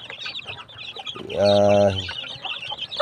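Chickens in a range area cluck and squawk close by, with one sustained, tonal squawk in the middle among scattered clucks.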